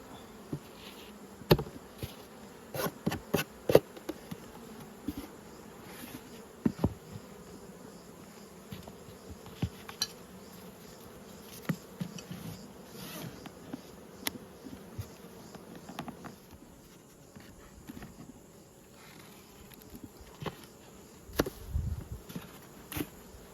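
Bees buzz around nucleus hives outdoors, a faint continuous drone with individual insects zipping close past in brief louder passes.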